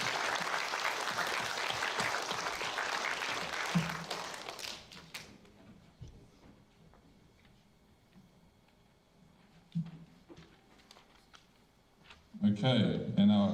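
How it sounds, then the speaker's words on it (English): Applause from a school assembly audience celebrating award winners, a loud burst of clapping for the first few seconds that fades into quiet room noise with a few taps and a short later burst. "Round of applause for our winners."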